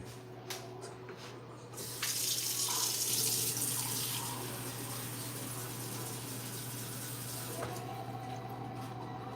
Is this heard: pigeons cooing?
no